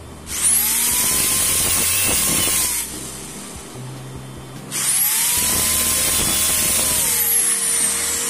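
A power drill bores holes into a PVC drum being shaped into an RC truck tyre, two loud sustained whining runs with a brief drop in between, close up and without talk.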